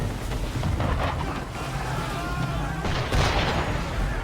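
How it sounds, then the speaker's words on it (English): A ship fires in the Assassin's Creed III game, with deep, rumbling booms over a constant roar of wind and water, a heavier blast near the end, and no talking. "Why is he shooting at us?"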